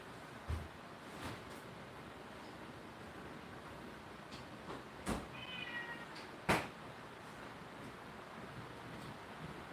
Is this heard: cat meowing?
yes